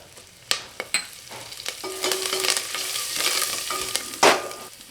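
Pepper and ginger sizzle and crackle as they roast in a hot pan while a spoon scrapes and stirs, with a few sharp knocks against the pan.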